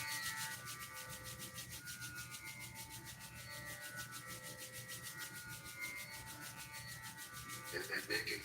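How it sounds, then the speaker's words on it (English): Palms rubbed briskly together during a yoga eye exercise, a steady, close, continuous dry friction hiss lasting throughout with a slight swell near the end, no talking. "Rub the palms briskly."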